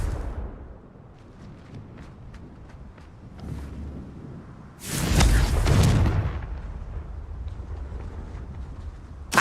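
A Confringo blasting spell in Hogwarts Legacy goes off as one loud, broad explosive whoosh and rumble midway, after quieter ticks and thuds, then the blast fades into a low rumble.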